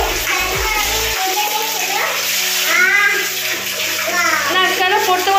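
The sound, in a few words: water splashing while bathing a child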